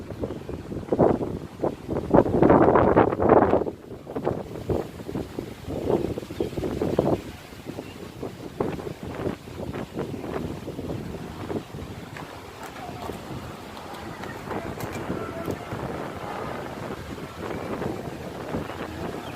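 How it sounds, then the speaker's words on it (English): Strong wind buffets the microphone with rumbling gusts on a hot, humid day under a severe thunderstorm watch, louder in the first few seconds, then a steady blustery roar continuing to the end. "That wind is just something fierce."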